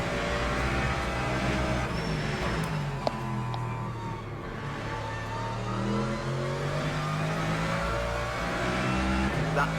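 Hypercar engine roaring in Le Mans Ultimate during a 6-hour race at COTA, a steady loud drone with rising and shifting engine tones as it overtakes, with voices talking over it.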